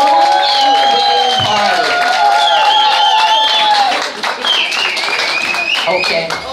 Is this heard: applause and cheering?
yes